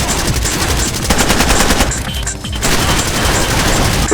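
Dense rapid gunfire from shooting in a game, loud continuous bursts with a brief dip midway before the firing resumes, close and harsh.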